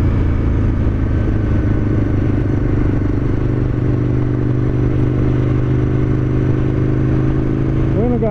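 An Aprilia RSV Mille Haga V-twin motorcycle engine rumbles steadily and loudly at a constant pace, with a low throbbing drone and some mechanical clatter, rising slightly near the end.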